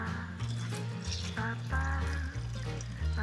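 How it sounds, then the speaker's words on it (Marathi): Hot water poured into a pot of chicken curry, a close, continuous splashing pour with a low steady hum underneath and no talking. "रस्सा म्हणून थोडंसं गरम पाणी टाकणार आहे"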